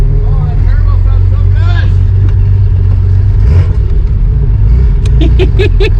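A rare McLaren's turbocharged engine revs loudly up close, a heavy continuous roar with rising pulls and sharp bursts near the end, while voices talk excitedly over it.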